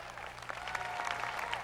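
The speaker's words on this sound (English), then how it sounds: "How about one more time, a round of applause for Mr. Scott Sr. on percussion" An audience at a jazz festival gives a short burst of clapping for a percussionist, moderately loud and steady over a low hum of the venue.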